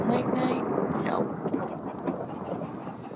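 A thunderstorm in the video game Dreamlands: rolling thunder rumbles steadily over a continuous wash of heavy rain, with no break in the storm noise.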